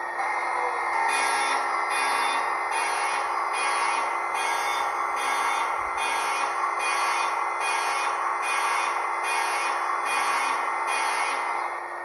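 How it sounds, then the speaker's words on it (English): Diesel primer effect from a Hornby Class 66 TT120 model locomotive sound decoder: a loud, continuous mechanical whine with a regular pulsing beat of about one per second, heard alone and steady throughout. "Diesel primer."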